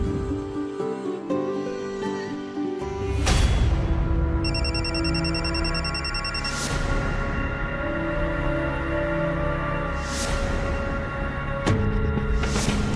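A telephone rings in a Marathi TV serial scene, a bright electronic ringtone pattern repeating over background music, steady and fairly loud with no talk.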